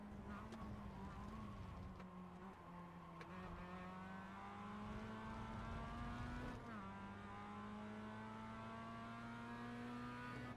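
A race car in the iRacing sim racing game drives hard, its engine note climbing and dropping through gear changes in a loud, continuous whine, with another car close behind.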